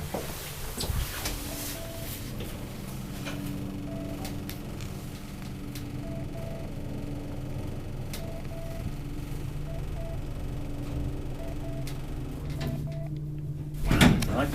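An old Kone roped hydraulic elevator runs through a ride in a residential building in Espoo: a steady low motor hum with intermittent soft beeps, ending in a louder clunk of the doors, no voices.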